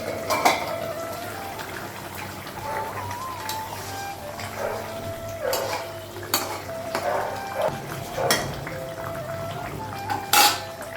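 Kitchen utensils are lifted and shifted in a home kitchen after cooking fish curry, producing scattered metallic clatters and clinks at irregular intervals over a steady low background hum.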